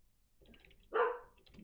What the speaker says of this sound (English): I do apologize for my dog barking in the back